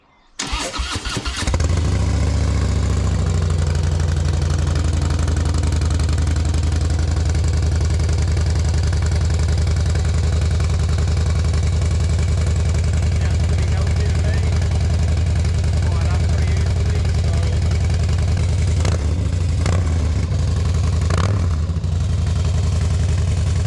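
A Harley-Davidson motorcycle engine cranks and catches, then settles into a loud, steady, lumpy idle close by that runs throughout, with a few brief louder blips near the end.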